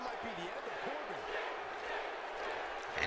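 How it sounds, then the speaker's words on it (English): Wrestling crowd in WWE 2K18 roaring in a broad, steady wash of arena noise, with rising and falling chanted vocal tones from the fans for Sting, with a commentator's voice weaving over it. "And now the crowd with the Sting chant"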